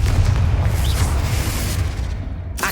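A fiery blast from a Confringo spell in a Harry Potter video game, cast inside a tomb by an altar: a heavy, rumbling explosion that rolls on for a couple of seconds, loud and close, with no talking.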